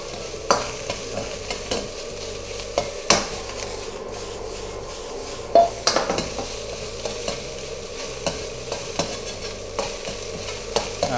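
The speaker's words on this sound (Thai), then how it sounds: "คั่วข้าวนะครับ ให้มันมีกลิ่นหอมๆนะครับ" Rice and pork cracklings are stir-fried in a hot pan, with a low sizzle under repeated scraping and tossing strokes of a spatula and occasional sharper knocks against the pan.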